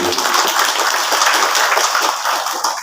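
Audience applause at a religious gathering for Ustadz Abidin Ali, a dense steady wash of clapping throughout, loud and close.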